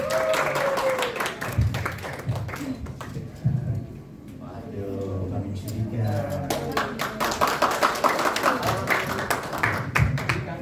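A TV studio audience gives a singer a burst of clapping that trails off and then swells again, with a host's voice speaking over it.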